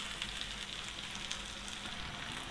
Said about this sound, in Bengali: আবার ঢাকনাটা লাগিয়ে দিচ্ছি, আরও কিছুক্ষণ আমরা মাংসটাকে রান্না করে নেব।